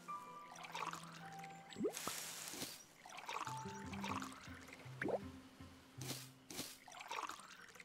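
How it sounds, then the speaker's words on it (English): Crops being watered from a water bucket in the Stranded Sails video game: short trickling splashes of poured water repeat between chiming game sound effects, fairly quiet. "And let's get all of these watered."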